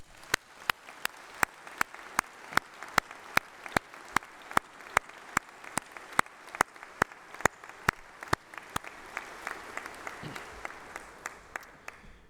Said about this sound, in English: let's have a huge round of applause for all those special people, your family, your friends, and your tutors